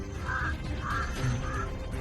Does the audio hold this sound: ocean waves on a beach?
no